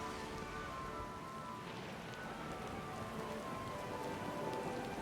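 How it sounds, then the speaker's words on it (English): Heavy storm rain pours steadily in the video game Pillars of Eternity II: Deadfire, a dense continuous hiss of rain at sea with faint low rumbling beneath, no voices. "A vision-searing thread of lightning forks between sea and sky, followed immediately by a rattling crash of thunder."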